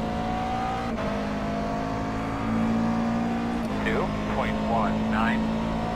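A McLaren MP4 12C race car in iRacing drives at Oran Park, its engine a steady, loud drone throughout with a brief tonal change partway through, while a voice talks over it.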